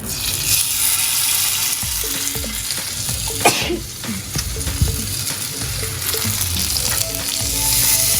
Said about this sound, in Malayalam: നമുക്കിത് എണ്ണയിലേക്ക് ഇടാം.